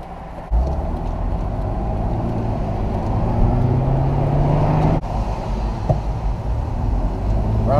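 A Mercedes CLK convertible drives along with a steady, loud engine drone and road rumble throughout, with a brief dip near the middle before the engine note carries on.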